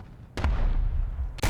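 Tank cannon on a VK 30.02 (M) in War Thunder, two loud, abrupt booming blasts about a second apart over a low rumbling engine drone.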